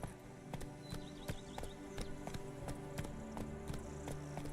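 A horse gallops in The Witcher 3, its hooves striking in a fast, regular clip-clop rhythm at close range, steady throughout with soft background ambience.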